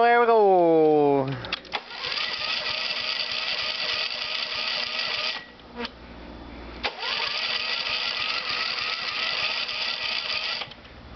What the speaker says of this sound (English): let's crank up the John Deere